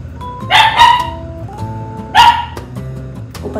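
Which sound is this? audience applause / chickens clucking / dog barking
dog barking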